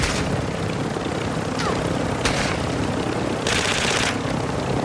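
A helicopter in a military team video game, a steady rotor drone throughout at moderate loudness, with a few sharp bursts of gunfire cutting in.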